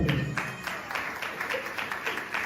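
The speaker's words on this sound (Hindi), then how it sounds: "यीशु के लिए कुल सौ तालियां बजाएंगे।" Church congregation clapping together, a brief burst of fairly rhythmic claps with regular beats, close and steady throughout.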